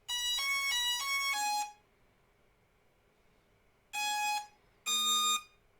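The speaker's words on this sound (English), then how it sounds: "The gimbal made a funny noise." A short run of bright electronic beeping tones from a Hubsan Zino 2 drone powering on, then silence, then two more brief beeps in a sequence, fairly loud and close.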